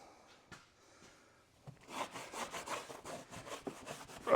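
Repeated rhythmic rubbing strokes of a greasy rag across an SUV surface, fairly close and moderately loud, starting after a quiet opening and continuing steadily to the end.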